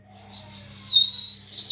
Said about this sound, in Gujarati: સીટી જ વાગી એમાં વાગતી જ નથી